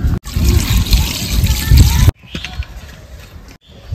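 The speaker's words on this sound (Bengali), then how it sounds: "এই গরম জলটা আমি এবার হাঁড়ির মধ্যে ঢেলে নেব।" Hot water poured from a kadai into a cooking pot of village-style mutton curry: a roughly two-second gushing splash that cuts off abruptly, followed by quieter dribbles and light clinks.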